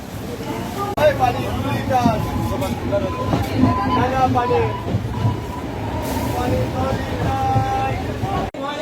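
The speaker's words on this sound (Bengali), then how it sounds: "ব্যান্ডেল স্টেশন থেকে এখন ট্রেন ছেড়ে যাচ্ছে" Kamrup Express pulling out of Bandel station, a steady rumbling roll of the carriages close by, with passengers talking throughout over the continuous noise.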